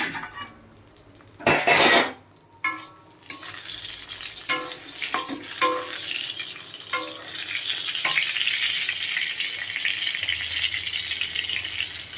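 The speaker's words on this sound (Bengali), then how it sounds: "এবার বেগুনটাও লাল লাল করে ভাজবো" Eggplant fries in hot oil, with a steady sizzle broken early by loud clattering bursts of a utensil handled in the pan and a few sharp knocks. The frying settles into an even hiss.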